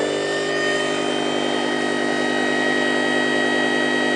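The motor on a budget QEG generator rig spins steadily at around 2000 RPM, giving a loud, even mechanical whine with layered tonal hum that holds constant throughout.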